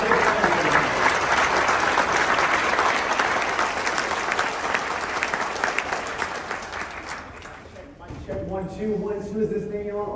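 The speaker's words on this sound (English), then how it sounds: "One more time, can we give another round of applause to Ryan?" Audience applause at a Microsoft event, a dense, loud wash of clapping that holds steady for about eight seconds, then thins out as voices and chatter come up near the end.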